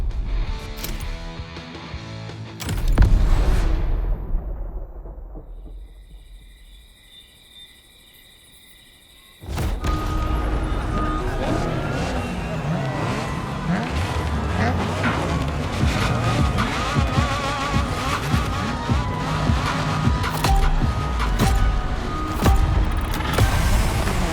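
A Mazda RX-7 revs loud and close in The Crew Motorfest, with tire squeal and skidding as it drifts. A brief, quieter lull comes before the sustained engine roar returns.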